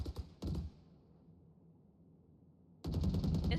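Gunfire in the Valorant video game, fired in short bursts: two quick bursts open, then a quiet stretch, then a dense, loud volley that carries on to the end. Rapid, sharp cracks close by.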